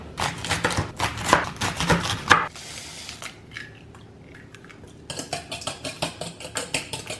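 A knife chops spring onions on a board in two bursts of quick, sharp, close strikes, separated by a quieter pause of a couple of seconds.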